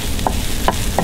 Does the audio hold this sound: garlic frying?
yes